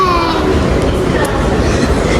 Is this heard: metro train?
yes